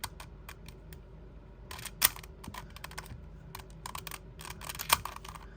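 A Diansheng FTO prototype twisty puzzle, unmagnetized, being turned with corner cutting: rapid bursts of plastic clicks and clacks in uneven clusters, close and fairly quiet, with a couple of sharper snaps.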